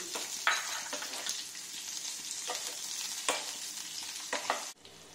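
Roughly chopped onion fries in hot oil with whole spices, giving a steady, fairly loud sizzle broken by a few sharper bursts and crackles as pieces are stirred, ending with a sudden drop near the close.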